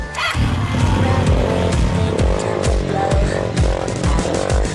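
Heavy motorcycles ridden by a group of women on a long road ride from Karachi to Kashmir, engines roaring loud and close with repeated revving surges and a throbbing exhaust pulse, no voices.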